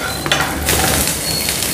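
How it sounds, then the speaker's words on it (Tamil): Steady frying sizzle with scraping and clinking of a spoon against a pan as cauliflower is stirred in hot oil, close up, no voices. "காலிஃப்ளவரை போட்டு நல்லா ஒரு நிமிஷம் பிரட்டிக்கோங்க."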